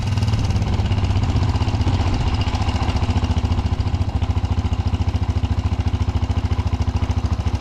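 A Kawasaki KLX dirt bike engine with a freshly cleaned carburetor idles close by, a loud, steady single-cylinder putter with quick regular pulses and some mechanical clatter, running on its own without talk.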